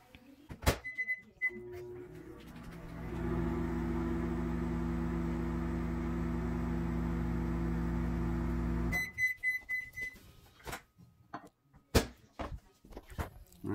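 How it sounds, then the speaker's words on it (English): A few beeps and a door clunk, then a microwave oven hums steadily for about six seconds while reheating scrambled eggs, before beeping and being opened, with clattering handling noises. "we're actually gonna go ahead and put these back in the microwave"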